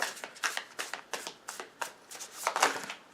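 Tarot cards are shuffled by hand in a quick series of crisp riffling bursts, close and fairly quiet, with no voices.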